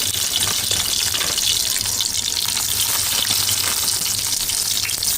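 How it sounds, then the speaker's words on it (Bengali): Chicken nuggets, taken straight from the freezer, frying in hot oil in a home kitchen, giving a steady, loud, dense sizzle that runs unbroken throughout with no talking. "তো এই পাশ দিয়ে তেল গরম হয়ে গেছে আর নাগেটসগুলো দিয়ে দিচ্ছি"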